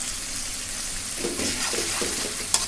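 Fish frying in oil with ginger-garlic paste for a dish of taro stolons, a soft, steady sizzle with a few stirring scrapes midway and a brief clink near the end, moderately quiet and without speech.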